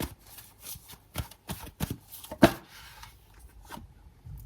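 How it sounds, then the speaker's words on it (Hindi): Tarot cards being shuffled and drawn during a reading, heard as a run of quick papery riffles and flicks at close range, with a sharper snap midway and softer handling afterward. "पहले मैं कार्ड्स निकालती हूँ, फिर मैं आपको बताती हूँ"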